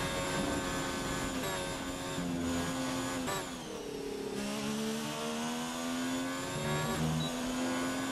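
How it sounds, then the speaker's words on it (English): F1 car in an Xbox racing game sweeps through Maggots and Becketts at the British Grand Prix, its high engine whine holding loud and steady, with pitch dipping and climbing through gear changes and lifts in the bends. "I'm going to let you guys listen to the car through Maggots and Beckett's."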